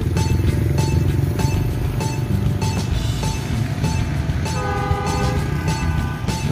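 A loud train horn blares in sustained tones over the heavy rumble of a passing train, clearly close by, at the Tegalluar depot of the Jakarta-Bandung high-speed railway.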